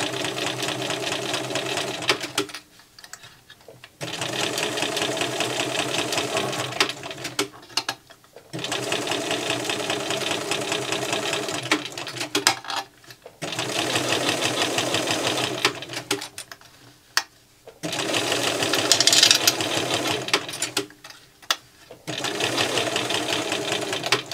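A sewing machine stitches a zip into a fabric bag, its presser foot pressed up against the zip teeth. The motor runs in steady bursts of several seconds each, separated by short pauses, close and loud.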